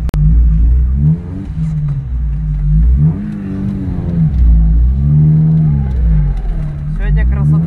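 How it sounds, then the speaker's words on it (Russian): A drift car at a winter drift battle on an ice ring roars loudly with repeated revving surges and rising, falling engine pitch, close and continuous, with a voice talking over it. "Там Макс Седых едет."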